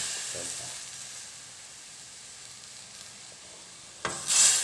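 Curry paste stir-frying in a pan with chicken stock for Isan chicken curry, giving a steady soft sizzle throughout, with a louder, brighter burst of sizzling near the end.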